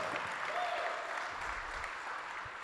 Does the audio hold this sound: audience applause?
yes